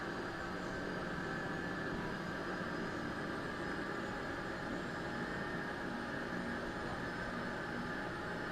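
Steady, loud jet engine roar holds at high thrust in the FSX flight simulator, a continuous broadband whine and rumble with no breaks and no voices.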